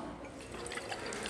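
Distilled water pours into a laboratory beaker in a soft, quiet trickle with faint splashes, heard alone at low level.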